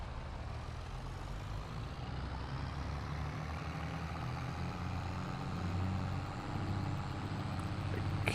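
A tractor engine in Farming Simulator 22 runs with a steady, low mechanical drone that stays even throughout, fairly quiet and without voices.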